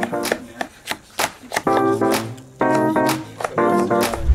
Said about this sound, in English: what I wanna do is chop this up as fine as I can